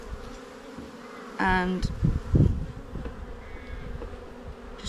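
Honeybees hum around an open hive during an inspection, a faint, low buzzing with a few louder passes close by, and a voice briefly speaks over it.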